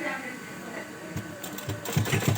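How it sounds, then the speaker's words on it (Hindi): A sewing machine runs in short bursts, sewing a top seam on a small girl's dress, with rhythmic stitching growing louder toward the end while someone talks over it. "तो मैं ऊपर की तरफ सिलाई हुआ कपड़ा ऊपर की तरफ रख के ऊपर की साइड के कपड़े में डब सिलाई लगा रही हूँ"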